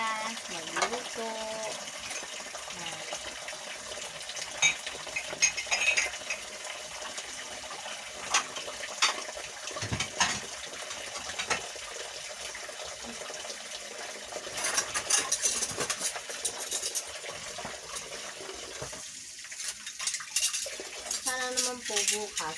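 Dishes and cutlery being washed by hand with running water, a continuous faint splash and trickle with intermittent clinks of plates and utensils, and speech occurring at times.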